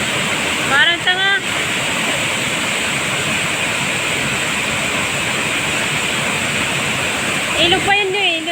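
A river and waterfall at a summer beach-and-falls spot pour with a constant, dense rushing roar, while people briefly talk near the start and again at the end.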